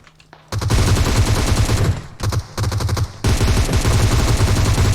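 Rapid automatic gunfire in the mobile game PUBG Mobile comes as loud, dense bursts of shots with brief gaps between them after a quiet opening half second.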